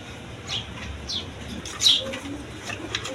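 A pair of Black Bombay pigeons makes soft chirps and brief wing flaps over a steady low background hum. The calls are faint to moderate and close, and no one speaks.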